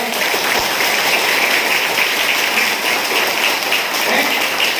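A crowd at a company motivational talk claps strongly, producing a thick, even roar of applause that holds steady and loud from start to finish, with no voices rising above it.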